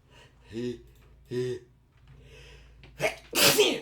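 A person draws a few halting, gasping breaths before letting out one loud, explosive sneeze close by.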